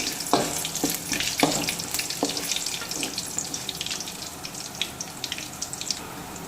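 Green chillies, garlic and ginger sizzle in hot oil in a pan while making lemon rice, a loud, steady frying hiss with crackles and a few stirring clinks close by, no voices.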